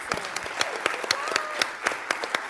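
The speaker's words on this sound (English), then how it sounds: "let's give them a round of applause." Light applause at a school board meeting after the pledge of allegiance, a small group clapping with distinct, somewhat sparse individual claps at moderate distance, fairly quiet overall.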